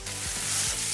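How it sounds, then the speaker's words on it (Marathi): Onion dropped into hot oil, where salted okra is already frying for masala bhendi, sets off a sudden loud sizzle that holds steady, with a couple of stirring scrapes underneath. "कांदा टाकत आहे."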